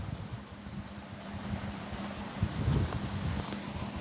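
An on-screen quiz countdown timer gives paired high electronic beeps about once per second, four pairs in all, over a low steady background hum.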